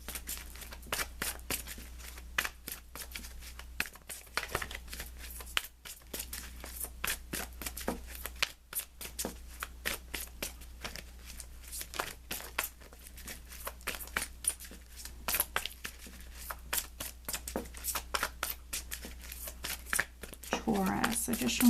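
Tarot cards being shuffled during a weekly reading, a steady run of soft papery riffles and flicks that continues throughout, sitting under a person's talking with brief quieter pauses.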